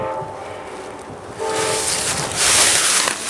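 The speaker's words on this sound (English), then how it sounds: "There's an Amtrak going by." An Amtrak train passing on railroad tracks near a used auto parts yard in Wallingford, Connecticut, building from a low rumble into a loud, close roar with a rising hiss and a sustained tonal horn-like note.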